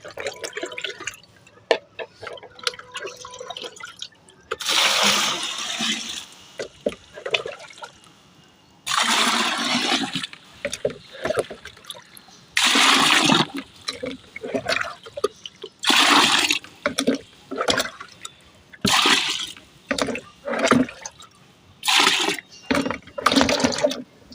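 Water is poured in repeated splashing bursts onto banana peels in a container, each pour a few seconds long with brief gaps and small drips between, close by.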